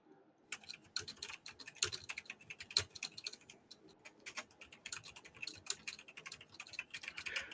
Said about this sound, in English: your mechanical keyboard in the background